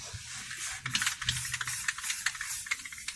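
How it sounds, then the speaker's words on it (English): Short hissing bursts from a spray paint can sound close up in a quiet room, several quick sprays in an uneven rhythm while painting a 1997 Toyota RAV4 strut part. "I'm gonna spray paint this shit."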